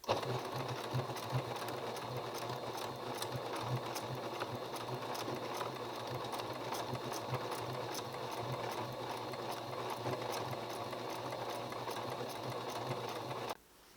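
A sewing machine hums continuously and close by during free motion embroidery, its even whirring stitch sustained for the whole stretch before cutting off abruptly at the end.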